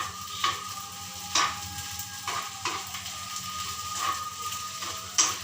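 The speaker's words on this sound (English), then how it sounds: "I'll just increase the flame, and then I'll constantly stir it." Sabudana khichdi stirred in a pan over a raised flame: steady soft sizzling under repeated scraping strokes of a spoon against the pan every second or so, close and moderately quiet.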